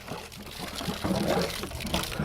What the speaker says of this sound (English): So now the water being pumped up is coming over to here, and the air comes out here.